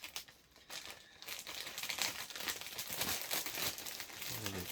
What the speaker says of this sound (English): Sorry about the crinkling.